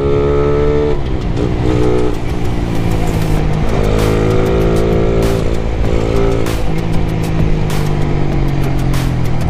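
A Yamaha Mio Gear motorcycle runs close behind on a road near Dibut, San Luis, Aurora, its engine a loud, steady droning hum that rises and dips slightly in pitch throughout.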